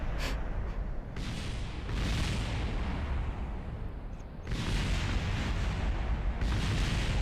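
A rocket in Kerbal Space Program crashes and explodes into a roaring, continuous wash of blasts as debris scatters, with loud bursts recurring over a steady rumbling background.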